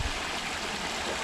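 Water pouring over the corner of a beaver dam at a trapping site, a steady, full rushing and splashing flow heard close up, constant throughout with no talk.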